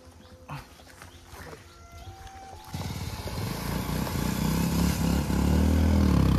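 A motorcycle stuck in deep mud on a Nagaland road revs its engine, the steady growl swelling louder over several seconds after a few quieter knocks and clatters.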